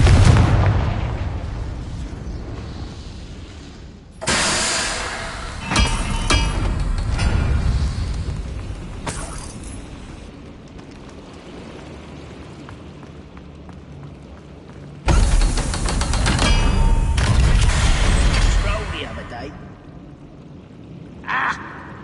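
Fiery blasts from the Confringo spell in Hogwarts Legacy, two big loud bursts several seconds apart with rumbling tails, surrounded by lighter pops and scuffles of combat.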